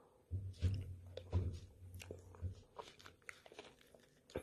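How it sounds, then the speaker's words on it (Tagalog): Bites into a crunchy Japanese dessert with a pinipig-like crisp layer give several quiet, close crunches and chewing sounds over a low steady hum. "meron siyang parang pinipig. Itong ano siya, crunchy."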